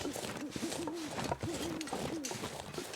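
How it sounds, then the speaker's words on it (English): Owls hoot in the snowy wilderness of the survival game The Long Dark, soft repeated cooing calls in a loose rhythm over a steady wind-like background, moderately near and without speech. "You can hear the owls."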